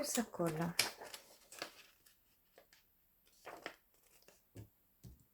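A few short crackling rips of sticky tape being pulled and torn, with quieter handling noises in between.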